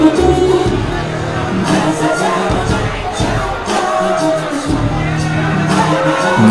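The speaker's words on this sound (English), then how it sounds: "And the crowd just showing their love for Devon Shooter." A loud wrestling arena crowd cheers and shouts for Devon Shooter in a steady roar of hubbub that swells and dips, with scattered whoops and speech-like babble throughout.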